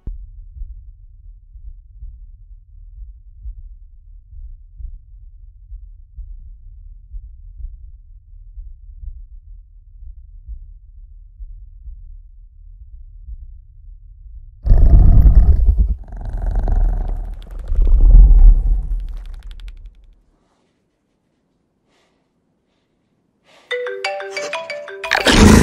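In A Quiet Place, a low rumbling drone gives way to a few loud, guttural roars and snarls from a Death Angel alien, then silence, then a sharp electronic ringing burst.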